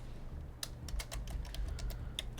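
Computer keyboard typing during a card-game pack-opening session, a quick irregular run of clicky keystrokes close to the mic over a steady low hum, with no talking.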